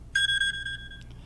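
A phone ringing with a spam call gives a short electronic ringtone, a steady high beeping tone lasting under a second, clear and close with no talk over it.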